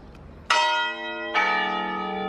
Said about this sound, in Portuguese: Sinos,